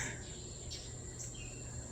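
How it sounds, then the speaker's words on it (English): Crickets trill steadily outdoors at golden hour, with a few short bird chirps coming through faintly over a quiet background. "Birds are chirping. Crickets are singing, I guess."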